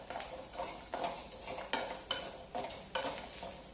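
Chutney ingredients for ragi idli roast in a pan on a low flame, with a quiet sizzle under soft, rhythmic stirring strokes repeating every half second or so.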